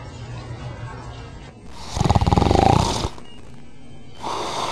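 A loud, rhythmic snore erupts in a burst of pulsing rasps lasting about a second, set between other sounds, with a second burst starting near the end.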